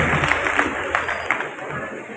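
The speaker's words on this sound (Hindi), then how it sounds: "एक बार जोरदार इनके लिए तालियां बजाएं।" An audience applauds with loud, continuous clapping and some crowd noise at a nurses' day celebration, steady and close throughout.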